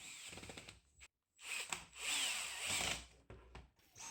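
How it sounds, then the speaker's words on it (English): Power screwdriver driving the three screws that secure a new replacement battery into a Dyson V7 cordless vacuum, short whirring bursts with brief pauses between, close and alone. "We put the new one in and screw all three screws."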